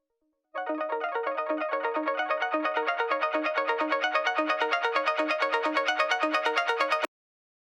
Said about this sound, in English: a really floaty harp sound that's pretty high in the register